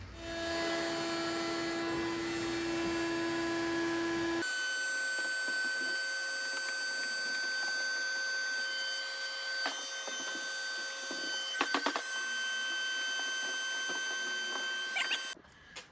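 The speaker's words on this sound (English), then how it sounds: "I really hate that vacuum" A free, old vacuum cleaner sucks up mouse nests from an abandoned 6x6, its steady motor whine running unbroken throughout, with the pitch shifting once early on and a few brief rattles of debris going up the hose.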